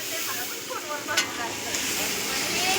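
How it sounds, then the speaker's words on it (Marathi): Onion and tomato fry in a pan with a soft, continuous sizzle and hiss, broken by light stirring scrapes and one sharp spatter, fairly quiet and close. "आता तुझ्याकडेच आहे कांदा टमाटर भाजायचा"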